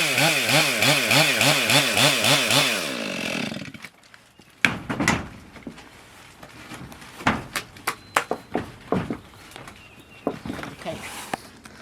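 A chainsaw roars loudly for a few seconds cutting into a tree trunk, then cuts off, followed by scattered knocks and thumps with a person talking.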